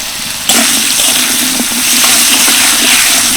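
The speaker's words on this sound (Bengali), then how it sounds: "ওদিকে আলুগুলো ভাজা হতে থাকুক" Salted, turmeric-dusted potato pieces drop into hot white oil in a wok, setting off a sudden loud, continuous frying hiss that stays strong and even throughout.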